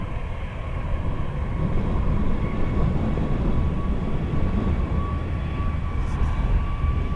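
An airliner roars down runway 10 right at Dublin Airport on its takeoff run, a steady, loud, broad engine rumble with a faint whine that holds throughout without voices.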